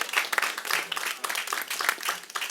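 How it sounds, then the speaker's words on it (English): An audience at a press conference applauds, steady moderate clapping from a small crowd heard at close range. "Give them all a round of applause."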